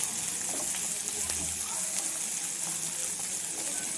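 Chopped onions sizzle in a hot pan while being fried for drumstick leaf palya, a soft, steady hiss with faint stirring clicks, as someone speaks over it.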